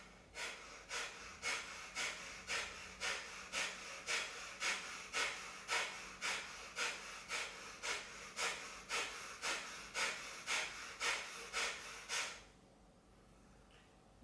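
Calm, steady breathing during an abdominal strengthening exercise, close and clear: about twenty even breaths in a regular rhythm over roughly twelve seconds, then near silence.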